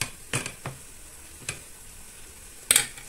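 Tomatoes dropped into a hot pan for spicy roast rabbit with yam, giving a quiet steady sizzle broken by a few sharp clinks and stirring clatters, with no talk.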